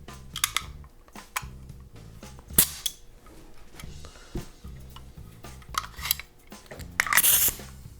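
Jammed pneumatic staple gun being cleared during Karmann Ghia rear-seat upholstery work: sharp metallic clicks, snaps and rattles in irregular bursts, close and fairly loud, over a low hum.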